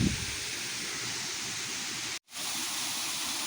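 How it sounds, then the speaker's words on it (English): Chereres Waterfall in Kericho, Kenya gives a constant broadband roar of falling water, full and steady from start to end, broken only by a brief dropout to near silence just past two seconds. "So this is the waterfall."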